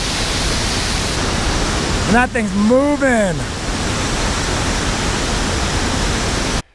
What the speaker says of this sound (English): There's a big waterfall. And check out that waterfall.